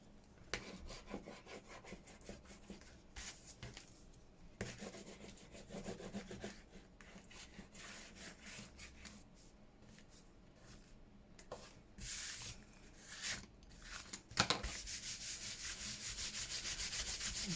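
Paper being rubbed by hand to lift stray bits of glue from a handmade junk journal envelope page, a steady scratchy friction that comes in bursts and grows louder and faster toward the end, with no talking.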